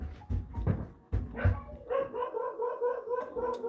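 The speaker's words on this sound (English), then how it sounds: "And dogs." Dogs bark indoors in a house, several sharp close barks followed by a run of higher whimpering yips, moderately loud with faint household background.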